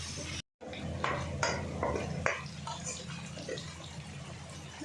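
A spoon stirs ginger garlic paste in a pot on the stove for a mutton curry, giving soft scraping and clinking sounds with faint background noise.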